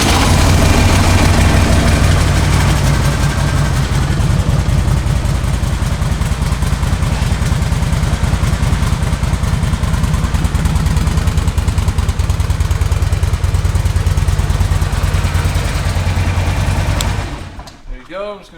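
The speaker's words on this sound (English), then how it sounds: "I'm gonna fire this thing up real quick so you guys can hear it run." A 2005 Harley-Davidson Ultra Classic touring motorcycle with 84,389 miles runs loud and close at a steady, deep idle for about seventeen seconds, its low rumble continuous until the engine is shut off and cuts out abruptly near the end.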